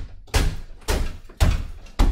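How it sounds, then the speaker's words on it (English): The blade end of a fire maul chops into a lath and plaster wall during overhaul work. Four heavy, evenly spaced thuds land about half a second apart, close and loud, with no voices. "I'm going to use the blade end of the fire maul. I'm going to dance across this, cutting it until I find a stud"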